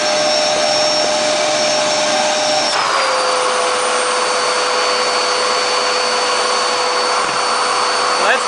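A Hoover vacuum cleaner runs continuously with a steady, loud whine that shifts slightly lower in pitch partway through and then holds its new tone.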